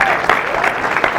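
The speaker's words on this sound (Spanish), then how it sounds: "Vamos a dar un aplauso a los abuelos." Applause from a church congregation during a sermon, a dense, steady patter of clapping hands throughout, fairly loud and close.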